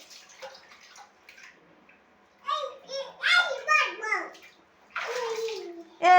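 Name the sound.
child splashing water in a bath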